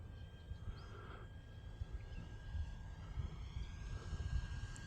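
An E-flite F-16 Falcon 80mm electric ducted-fan RC jet flies at partial throttle, its faint, steady whooshing hum carried at a distance against a low outdoor rumble.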